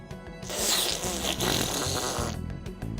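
Fart sound gag in the video game Persona 5 Strikers, a loud sputtering blast lasting about two seconds over game music, alone without talk.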